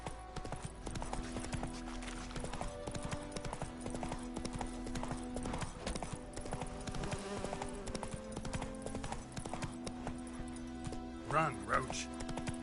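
Roach, a horse in The Witcher 3, gallops with steady repeated hoofbeats that run throughout, set against game music and ambience, with a brief louder flourish near the end.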